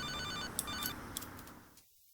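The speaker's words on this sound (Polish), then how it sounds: "I dostaliśmy telefon od razu." A phone rings in the video game GTA: Liberty City Stories: a clear, fairly soft electronic bell trill repeats for about two seconds and then cuts off to silence, with no talking.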